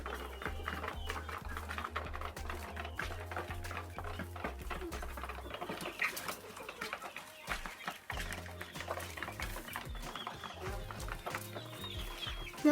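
Large hens cluck and murmur steadily nearby as they peck at grain, with scattered pecking taps and some background voices mixed in.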